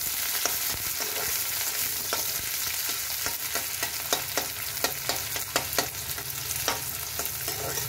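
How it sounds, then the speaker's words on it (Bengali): Onions frying in hot oil in a wok for a bottle gourd peel mash, a continuous close sizzle with crackling pops and intermittent scraping stirs, no voices. "একটু ভাজতে হবে পেঁয়াজটা।"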